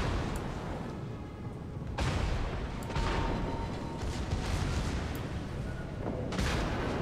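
Broadside from the battleship Musashi in World of Warships: heavy, booming gunfire over constant rumbling game noise, with a few distinct loud shots spread across several seconds.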